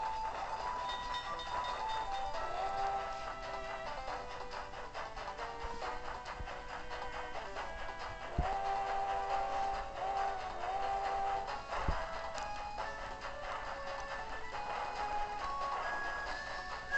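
A train rolls past at a distance, with steady rumbling, squealing wheel tones and a couple of sharp clanks, and no one speaking.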